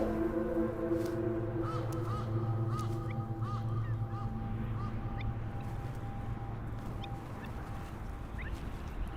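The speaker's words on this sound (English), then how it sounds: "A raven is particularly keen on freshly hatched chicks." Harsh calls of a raven watching for freshly hatched courser chicks on a European island, several short croaks spaced through the middle, moderately faint over a steady low hum of wind and ambient drone.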